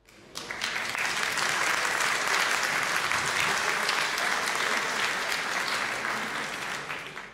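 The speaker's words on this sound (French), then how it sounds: "Alors, c'est l'acclamation, l'applaudissement" Sustained applause from attendees at a congress held at the Cité Internationale Universitaire de Paris, approving a motion by acclamation; steady dense clapping from many hands filling the room, starting abruptly and fading slightly at the end.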